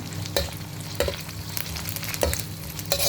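Steady sizzling of crushed garlic frying in a pan, with a utensil scraping and knocking at intervals as it stirs.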